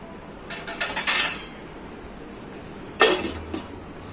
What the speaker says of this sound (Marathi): झाकण ठेवते